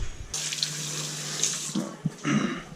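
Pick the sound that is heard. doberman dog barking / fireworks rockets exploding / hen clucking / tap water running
tap water running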